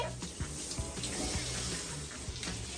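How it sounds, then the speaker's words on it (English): Continuous hiss and splatter of shower water running steadily, a dense, fairly quiet spray with small irregular splashes throughout. "I am going to enjoy this shower."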